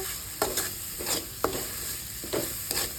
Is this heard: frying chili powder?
yes